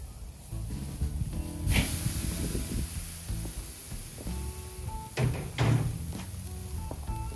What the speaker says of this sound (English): Let's get a nice good sear on that steak.